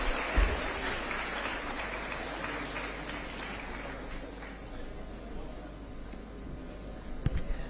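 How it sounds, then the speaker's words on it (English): Crowd applause welcoming guest Ms. Amla Akineni at an annual event in a convention hall, a broad, fairly quiet wash of clapping over a low hum, with a couple of sharp knocks near the end. "A huge round of applause."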